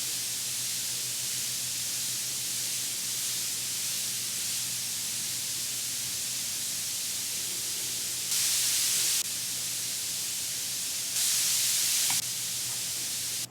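Steady, loud generated white noise from NoiseDash hisses throughout, a flat wash of static that turns briefly brighter and harsher twice near the end.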